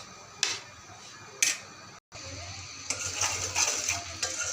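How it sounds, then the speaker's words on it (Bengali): Rice flour and nuts being mixed together in a bowl for laddu make faint scraping and light clinks at irregular intervals, with a short gap of silence midway and quieter rustling afterward. "এদিকে আমি চালের গুঁড়ার বাদামগুলো একসাথে মিক্স করে নিতেছি।"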